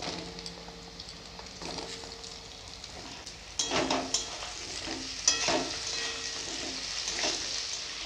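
Cut potatoes go into a hot pan with oil and then start to fry. A sudden sizzle rises and settles into steady crackling frying, broken by scraping and clinking stirring strokes.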